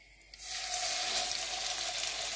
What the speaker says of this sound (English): First step, fry the fish.